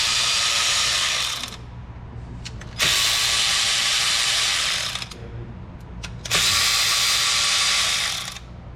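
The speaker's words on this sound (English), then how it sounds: "this is my snap-on 4-inch drive cordless ratchet" A Snap-on cordless ratchet unscrews the valve cover nuts with a 10mm socket on a 2001 Audi TT 225HP engine. Three loud, close, whirring runs of about two seconds each are separated by brief clicks and pauses.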